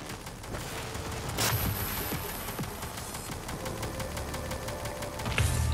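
Automated turrets fire in the video game Prey. Bursts and sharp cracks break through a busy, steady mechanical din at close range, with no voices.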